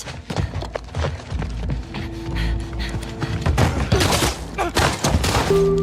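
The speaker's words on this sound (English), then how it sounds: "Jesse is shot, gunned down straight to the head." A fatal gunshot in the video game The Last of Us Part II, heard as a burst of sharp cracks and thuds amid tense game sounds and music tones, moderately loud.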